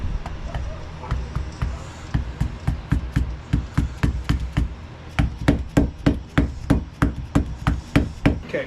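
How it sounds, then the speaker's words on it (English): A 1988 pickup's axle seal is tapped into place with a steady run of sharp, close hammer knocks, about twenty evenly spaced strikes that quicken and grow crisper toward the end. "Just start tapping it into place."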